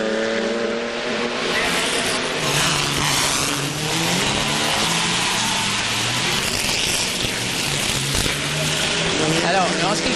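Historic ERA racing cars at the Monaco Historic Grand Prix, engines roaring and revving as they pass, loud and continuous with shifting pitch, while a commentator talks over the noise.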